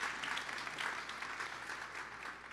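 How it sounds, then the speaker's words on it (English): Steady audience applause fills an awards show celebration, a dense even wash of many hands clapping, moderately faint and sustained without speech. "Round of applause."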